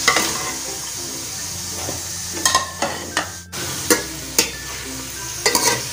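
Onions and tomatoes sizzling in a pot for a village-style mutton shorba, a constant frying hiss with repeated sharp spoon scrapes and clanks against the pot's side.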